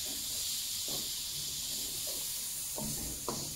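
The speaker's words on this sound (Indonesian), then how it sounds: "Kita tumis sampai agak sedikit layu" Garlic and onion sauté in oil for a spaghetti bolognese, giving a steady high hiss of frying with four quiet spatula stirs knocking against the pan.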